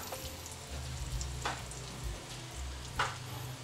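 Butter sizzling and crackling steadily in a pan while being stirred, with soft scraping strokes and a few sharp clinks of the utensil against the pan, no voices.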